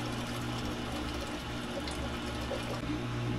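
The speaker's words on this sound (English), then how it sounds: "Right now you have the drain pump on." A drain pump runs inside a Hotpoint HTW240 top-load washer, a steady low hum with watery rushing, continuous and fairly close throughout with no talking.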